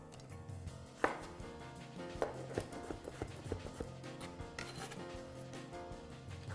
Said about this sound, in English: I'm slicing these very thin.